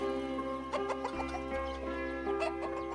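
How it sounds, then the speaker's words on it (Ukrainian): Hens on a small farm cluck in short, irregular bursts close by, their clipped calls rising over a steady low hum in the background. "Також у нас з'явилися курочки."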